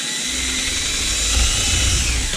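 Power drill driving a screw through a wooden shim on a cabin window hinge, a steady loud whine holding for a couple of seconds, close up with no voices.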